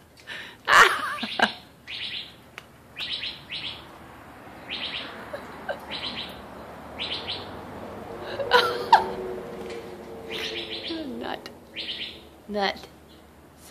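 A pet parrot makes a series of sharp chirps, whistles and calls, some close and loud, with short gaps between them over a low background.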